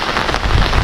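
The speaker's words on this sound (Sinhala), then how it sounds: "හොඳටම වහින්න පටන් ගත්තා." Heavy rain pours down steadily outdoors on a hill trek to Belumgala in Sri Lanka, a loud, dense, continuous hiss close by with no voices.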